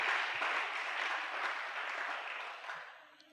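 A church congregation at a Sunday thanksgiving service claps together in steady, dense applause that holds for a few seconds and then fades slightly toward the end, with no voices above it.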